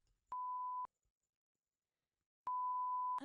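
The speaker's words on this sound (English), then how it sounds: "Beep this out." Two loud, steady electronic censor bleeps at a single pitch, the first short and the second a little longer, separated by about a second and a half of silence.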